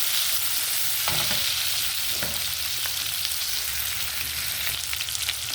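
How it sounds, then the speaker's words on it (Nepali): Onion is added and tossed in a hot frying pan while making chicken curry, giving a loud, continuous close sizzle with occasional scraping and stirring clatter throughout and no talking. "अब हामीले यसमा प्याज एड गर्ने। प्याज हल्का टस गरिदिनु।"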